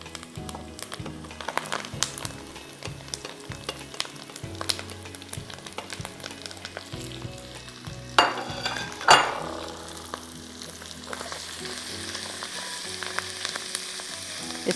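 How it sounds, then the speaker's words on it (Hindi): Half a kilo of minced meat (qeema) frying with onion and spices in a handi, a continuous close sizzle under repeated spoon clinks and scrapes against the pot, with a couple of louder knocks midway. "इसको मैं अच्छी तरह 5 मिनट तक यहाँ भून रही हूँ"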